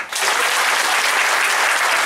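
A cruise ship comedy show audience bursts into loud applause, the clapping starting abruptly and holding dense and steady from a crowd close by.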